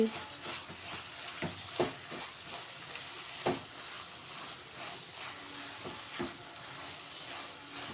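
Okra and tomato curry is stirred in a pan with coriander added. A spatula scrapes and knocks irregularly over a soft, steady sizzle, close and fairly quiet.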